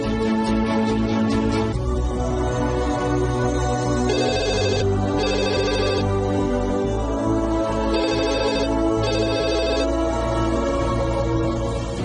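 A telephone rings repeatedly in bursts of a bright electronic tone over steady background music, with the rings recurring about once a second in short pairs and no talk in between.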